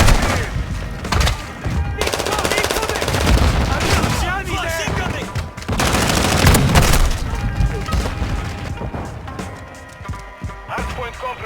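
Rapid gunfire bursts and booms from a Call of Duty Modern Warfare II hardpoint multiplayer match with shotguns, loud and nearly continuous throughout with brief lulls, overlaid by game announcer voice lines and a player talking.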